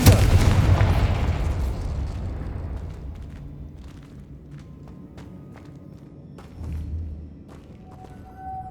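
A Confringo spell cast in the Hogwarts Legacy video game: a loud, booming blast at the start that rumbles and fades over several seconds, followed by a quieter thump and faint scattered debris sounds.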